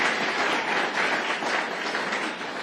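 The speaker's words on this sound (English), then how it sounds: "Let's clap for him too." Dense, steady applause from a conference audience at a climate summit session, a continuous wash of many hands clapping at close range with no talk over it.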